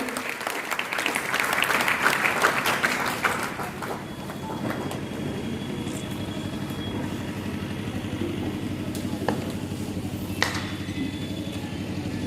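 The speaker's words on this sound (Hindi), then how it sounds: "जोरदार ताली से स्वागत करेंगे।" Vigorous audience applause at a private schools association annual function in a town hall, loudest in the first few seconds, then easing into lighter, sustained clapping over a low background hum for about twelve seconds.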